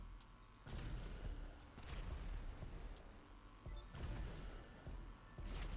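Heavy tank cannon blasts in GTA 5 Online, a Khanjali or Rhino firing: several booming shots at irregular intervals, each a sudden loud burst over a constant low rumble.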